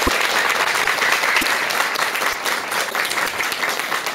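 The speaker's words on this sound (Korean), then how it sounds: "여러분 큰 박수와 함께 청해 들어보도록" A seated audience at a talk on a Buddhist temple gives a steady round of loud, dense applause that continues throughout, with no speech over it.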